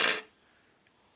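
A metal spoon is set down with a quick, bright clatter lasting a fraction of a second, then near silence.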